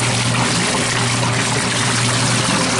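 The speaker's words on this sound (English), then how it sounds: "Look at that turbulence. That's what washes clothes." A vintage 1981 Whirlpool belt-drive washer agitating a tub of water, a loud, continuous churning slosh and rush of turbulent water with a low steady motor hum underneath.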